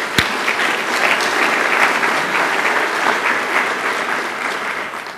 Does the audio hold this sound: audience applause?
yes